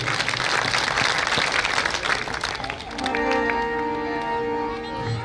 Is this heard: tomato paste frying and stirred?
no